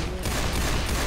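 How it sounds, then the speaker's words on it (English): Rapid gunfire from the Left 4 Dead 2 video game rattles in a dense, continuous burst that fills the whole short clip. "My gunshots got extremely quiet when I was down on life."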